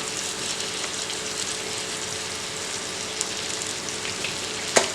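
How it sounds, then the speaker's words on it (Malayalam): Sliced onions sauté in oil with salt for fish molee, giving a steady close sizzle and crackle that holds throughout, with a faint clink near the end. "അതൊന്ന് സവാള ഒന്ന് വഴന്ന് വരട്ടെ."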